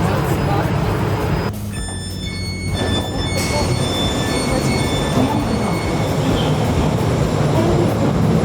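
A metro train in Catania, Sicily, rumbles steadily along the rails with a loud, continuous roar, high wheel squeals and occasional tonal whines cutting through.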